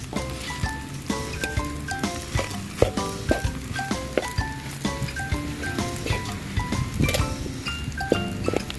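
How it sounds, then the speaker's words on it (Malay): Fried rice sizzling and frying in a hot pan at a campsite, with frequent scraping and clattering of a utensil stirring, steady and close. "Okey, tumis sikit lagi, kasih kering"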